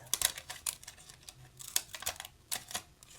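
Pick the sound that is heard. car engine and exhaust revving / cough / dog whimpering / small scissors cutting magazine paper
small scissors cutting magazine paper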